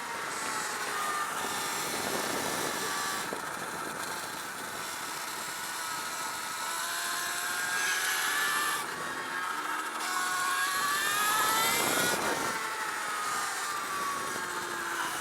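An Alta Redshift SM39 electric supermoto motorcycle runs a practice session at Desert Park Raceway, giving a continuous close electric whine that rises and falls in pitch with acceleration over steady wind and tire noise.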